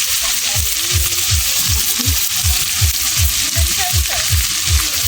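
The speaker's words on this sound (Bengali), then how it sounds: "আমি পেঁয়াজ দিয়ে দিচ্ছি, তেল আছে এখনো কড়াতে।" Onions sizzle and fry in oil in a wok while being stirred, a loud close hiss under a regular rhythm of scraping strokes about twice a second.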